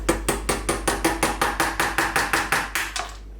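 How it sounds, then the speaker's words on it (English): A hammer taps a screwdriver to pop an LED diode out of a Viparspectra 165w Blackbox grow light, about fifteen light, evenly spaced metallic taps in a steady rhythm, close and clear, over a low hum. "Get your hammer."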